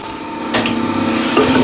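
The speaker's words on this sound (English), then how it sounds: "we need to drill a hole here" A half-inch drill bit bores into a wooden workpiece spinning on a lathe: a short, dry grinding rasp that swells partway through and holds steady to the end.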